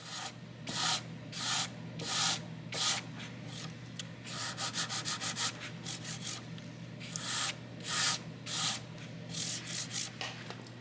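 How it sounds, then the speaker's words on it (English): Steel wool scrubs across the finish of a 1959 Gibson ES-335 guitar during binding repair and refret work, giving close, dry raspy strokes in quick uneven bursts with brief pauses between them. "That's why I'm just doing steel wool for right now."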